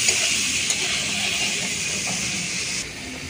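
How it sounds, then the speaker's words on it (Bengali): Prawns frying in hot oil in a home kitchen pan give off a loud, steady sizzling hiss that runs unbroken throughout, softening slightly near the end. "এবারে আমি ভালো করে মাছগুলোকে লাল লাল করে ভেজে নেব।"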